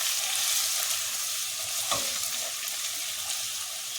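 Steady hiss and crackle of garlic frying in hot oil, with a brief stirring scrape midway, continuous and close.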